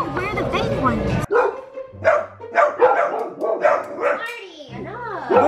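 A dog barks repeatedly in sharp, close bursts, mixed with yips, while people talk over it.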